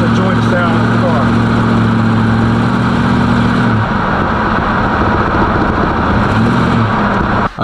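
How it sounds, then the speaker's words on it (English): A Cutlass car engine idles loudly and steadily nearby with a low hum, wind noise and a voice mixed in. "y'all just enjoy the sound of the car."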